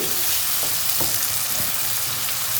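Sliced tomatoes softening in a pan over low heat for a green-onion egg dish, giving a steady even sizzle with a few faint utensil taps and no voices.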